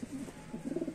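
A string of low throaty coos from fantail pigeons in a loft, a couple early, then a quick pulsing run of repeated notes toward the end, fairly close and without talk.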